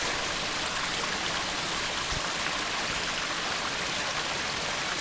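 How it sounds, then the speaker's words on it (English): A crystal clear creek flows with a steady, full rushing and babbling of water that continues evenly and fairly loud throughout, with no voices. "These crystal clear creeks."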